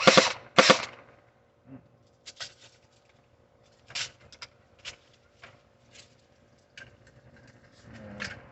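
Semi-auto shots from an Umarex MP5SD replica gun, a few sharp pops at the start followed by scattered lighter clicks and snaps with quiet gaps between them, close by and with no talking.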